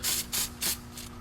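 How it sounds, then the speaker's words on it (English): Four quick hissing blasts of aerosol gasket adhesive onto the water pump mounting surface of a 1998 Chevy Tahoe 5.7L engine, close and fairly loud, in a fast uneven rhythm. "And I'm going to spray a little bit on the surface"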